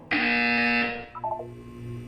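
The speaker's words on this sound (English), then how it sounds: "When you hear the buzzer, look down at the floor." A loud electronic buzzer from the video game Portal 2, one harsh sustained tone of almost a second that cuts off. It is followed by a brief quieter chirping electronic flutter and a low hum.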